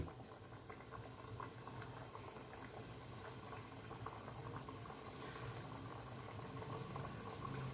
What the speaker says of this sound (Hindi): मीडियम हॉट ऑयल पर इसे तलकर निकाल लूंगी